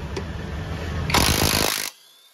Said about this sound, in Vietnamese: Và bây giờ em sẽ thử bu lông nhá.